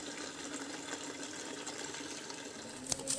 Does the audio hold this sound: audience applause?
no